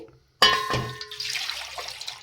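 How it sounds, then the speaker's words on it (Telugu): Water gushes and splashes into a pot of milk after a brief silence, a close, continuous pouring sound lasting about two seconds. "ఒక కప్పు వాటర్ తీసుకోవాలండి"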